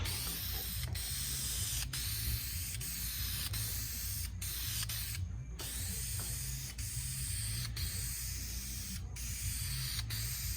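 Continuous hiss of spray coating applied to a 2001 Dodge Ram truck, steady and close, with a few brief pauses between passes of the can.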